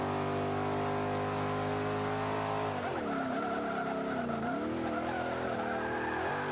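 A Ford Shelby GT500 in Forza 5 revs high and then spins its tires, the squeal wavering and warbling loudly over the engine drone for several seconds.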